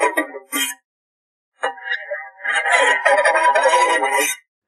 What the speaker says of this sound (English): For the fork scrapes, I also time stretched it on a different track and then put it through denoising and flattening.